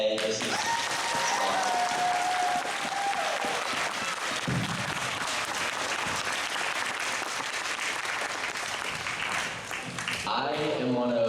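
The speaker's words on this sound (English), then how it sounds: "A quick round of applause for everyone running today." Sustained audience applause fills the room for the candidates at a student board representative election, steady and fairly loud throughout, with a brief tone and some voices near the end.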